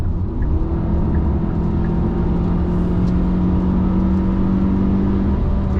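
A new Hyundai Sonata's direct-injection engine pulls steadily from inside the cabin, a continuous low hum with a rising tone, even and unbroken throughout.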